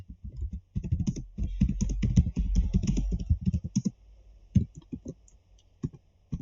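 C code is typed on a computer keyboard in rapid close bursts of clicking keystrokes, thinning to a few scattered taps, with no talking.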